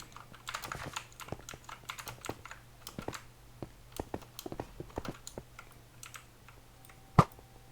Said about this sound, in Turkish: Bu arada mekanik klavyem hakkında bilgiler vereyim.